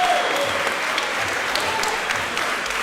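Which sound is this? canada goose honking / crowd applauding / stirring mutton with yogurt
crowd applauding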